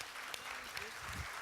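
A church congregation at a French missionary morning claps briefly in faint, scattered applause, with a voice speaking over it.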